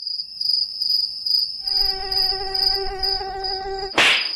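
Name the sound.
mosquito buzzing in a cartoon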